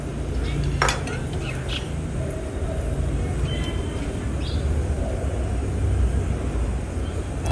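Chopped onion tipped into a pan while cooking potatoes for raw papaya pickle, heard as a steady bed of clattering, scraping and stirring with a few sharper knocks, no voices.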